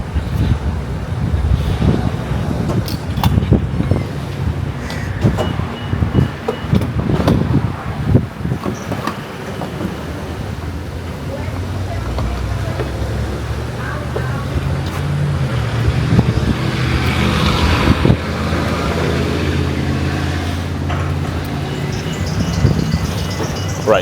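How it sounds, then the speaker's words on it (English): Steady rumble and road noise inside a moving car on a drive back through Alabama, with low engine drone, wind buffeting, and occasional thumps and knocks over the whole span. "Right, so we are on the drive back."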